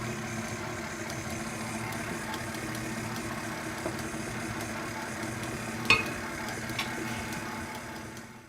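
An electric mixer beats cupcake batter with added milk and vanilla, a steady whirring drone that runs continuously on low speed, with a brief clatter partway through.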